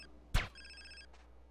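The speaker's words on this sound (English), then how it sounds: "The phone will ring again." A telephone rings in the video game GTA San Andreas: a short trilling ring follows a sharp thump, then a second brief ring fades, fairly quiet with no voices.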